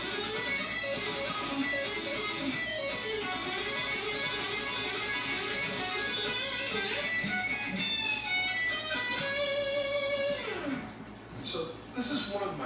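Electric guitar playing a steady pattern of fast 16th-note picking, with dense, continuous notes locking into the rhythm, close and loud, thinning out near the end.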